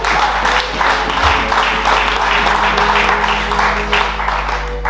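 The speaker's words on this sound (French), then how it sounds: "Est-ce que quelqu'un peut applaudir cette parole?" Church congregation applauding together during a sermon, steady loud clapping from a crowd sustained throughout with a faint voice underneath.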